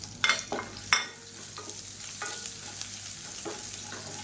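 Garlic, cumin, red chillies and curry leaves fry in a pan with a steady sizzle, broken by a few sharp scraping stirs early on, then quieter crackling.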